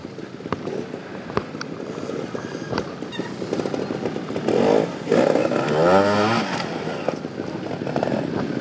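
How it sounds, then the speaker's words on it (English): Two-stroke motocross motorcycles ride a private dirt course, their engines buzzing and revving with a rising, wailing whine that swells in the middle as a bike passes close, over a background of engine clatter. "Most of these guys are still riding all the two strokes."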